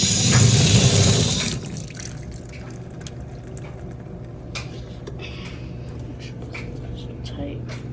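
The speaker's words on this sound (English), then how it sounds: "We also have the water faucet." Water gushes from a faucet beside a Kenmore 100 high-efficiency washing machine, loud for the first second and a half, then cuts off and leaves quieter drips and clinks with a voice talking.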